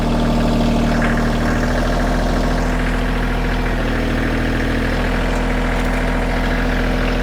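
A tractor engine idles steadily and loudly close by, a constant low mechanical drone with faint vibration and no speech over it.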